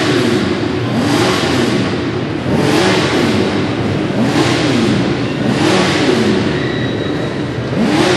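Four-cylinder double-overhead-cam sidecar racing engines scream around a speedway track at night, loud and continuous, with the pitch rising and falling in repeated waves as the machines lap past.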